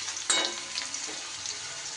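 Potatoes fry in a pan with a soft, steady sizzle and one brief clatter of stirring early on, quiet and close.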